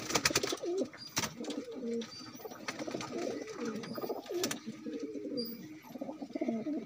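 Pigeons coo close by in soft, rolling, repeated calls, with a few sharp clicks or wing sounds at the start and no voices.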